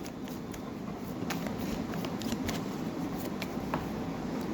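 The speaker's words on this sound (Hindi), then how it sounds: "यहाँ से भी मैं 2 कार्ड लूँगी।" Tarot cards are drawn and handled for a reading, with soft papery slides and light flicks against a quiet, hissy room background and no speech.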